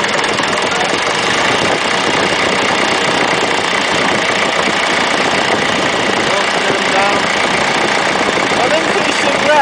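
A Ferguson TEF20 grey tractor engine runs steadily and loudly close by, a continuous dense mechanical clatter with no pauses and no talk.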